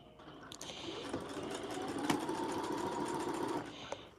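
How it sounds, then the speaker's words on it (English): A sewing machine stitching a dress runs in a steady close rapid hum and needle clatter for several seconds, starting and stopping gently with a few small clicks. "I always forward and back stitch before I go forward and go all the way down"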